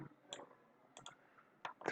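Computer mouse clicks while deleting rows from an ASP.NET grid view, a few short sharp taps spaced apart with quiet gaps between, close and fairly faint.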